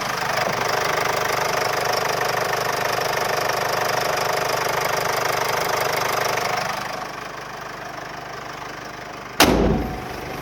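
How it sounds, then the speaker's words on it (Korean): A Mercedes GLE 250 SUV engine idles steadily at close range with the hood open, then its drone drops quieter, and a sharp metallic thud sounds near the end. "엔진음 들려드릴게요."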